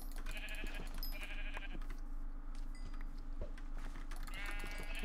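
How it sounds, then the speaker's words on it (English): Sheep bleating in the Minecraft Hypixel Skyblock video game: several harmonic bleats come in bursts over a steady low game hum, with no talk. "I don't feel too bad about killing sheep."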